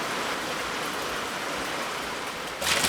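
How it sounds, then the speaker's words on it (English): Light rain falling at an off-grid cabin, a steady soft hiss of drops close by, unbroken for nearly three seconds before a brief louder splash at the end. "Now there's not a whole lot of rain falling right now, and there's not much coming out of this gutter."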